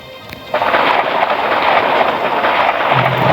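A lightning strike hits Earth in the video game Solar Smash: a loud, rumbling thunder-like crash bursts in after a quieter moment and holds as a dense, sustained roar to the end.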